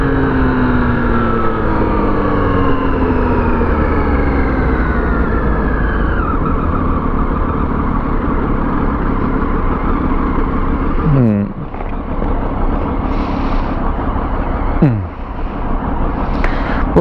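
A Triumph Street Triple 1075 motorcycle engine drones loud and close on a night ride, its pitch climbing under throttle, then twice dipping sharply as revs drop before pulling again.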